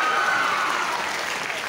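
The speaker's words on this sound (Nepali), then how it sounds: "नजान्नेले ताली त बजाए हुन्छ नि त" An audience claps steadily throughout, a dense, even patter of many hands at close range with no pauses.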